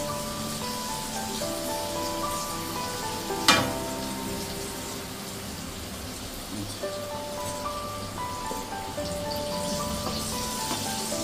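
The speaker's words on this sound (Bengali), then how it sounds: "এইভাবে উল্টে পাল্টিয়ে ভেজে নেব।" Palm fritters (tal pitha) frying in hot oil, a steady close sizzle and crackle with one sharp bright pop partway through, running alone without talk under faint tonal background.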